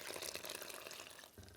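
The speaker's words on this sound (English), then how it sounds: "just gonna add like half of this water" Water poured by hand from a cup or jug into a kitchen bowl of challah bread dough mixture with oil, a steady close splashing pour that shifts to a duller trickle near the end.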